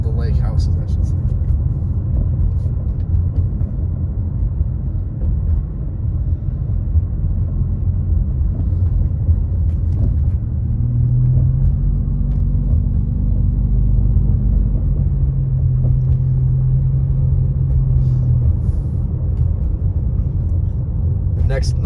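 A car drives along a snowy lakeside road past lake houses, giving a steady low rumble throughout, with a voice talking over it.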